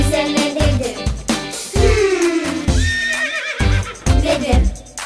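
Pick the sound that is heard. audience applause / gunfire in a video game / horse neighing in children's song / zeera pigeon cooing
horse neighing in children's song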